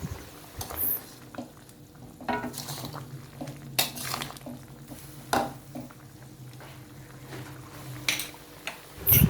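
Scraping and clinking of a utensil stirring Thai pork and acacia-leaf curry in a pot, with intermittent sharp knocks against the metal over a low background hum.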